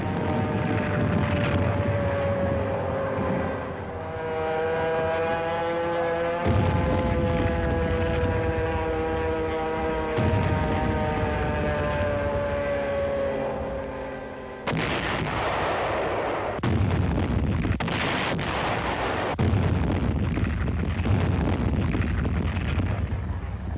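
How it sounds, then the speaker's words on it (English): Wartime bombardment of Mandalay by Allied planes and British ground forces: loud, continuous booming artillery and gunfire over a droning engine-like roar, with sharper bursts partway through. "Mandalay was under attack by Allied planes and British ground forces for more than 2 months"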